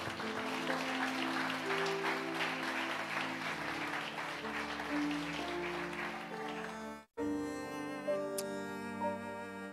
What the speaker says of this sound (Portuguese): Aplaude o Senhor, irmãos